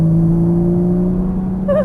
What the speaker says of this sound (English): Now start squeezing that throttle.